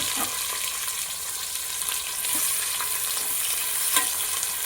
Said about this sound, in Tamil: இப்போ ஊற்றின எண்ணெய் சூடாயிருச்சு. இப்போ நம்ம வெட்டி வச்ச வெங்காயத்தை சேர்த்துக்கலாம்.